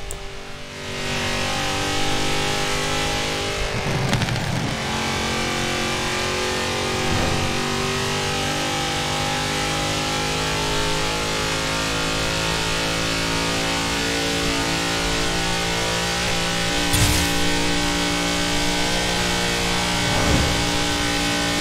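A Brabus 800 car engine in Forza Horizon 4 drones steadily at high revs for a long stretch, with a few brief rises and dips as gears change.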